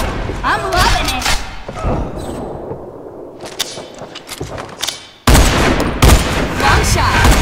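A grenade blast and gunfire in the PvP shooter Zombies Monsters Robots, a loud burst of thumping shots early, a quieter lull, then a sudden heavy explosion and sustained firing, with a game voice calling out.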